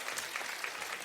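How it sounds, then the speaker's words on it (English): Short, fairly faint round of applause from a small gathered group, a steady patter of claps with no talking over it. "Give these guys a round of applause."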